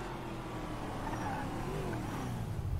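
A car accelerates in the video game GTA V, its engine a steady, loud drone that holds for the whole stretch.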